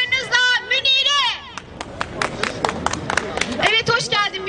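Studio audience applause at a televised contest show, a burst of clapping mixed with voices and crowd babble, fairly loud and steady across the few seconds.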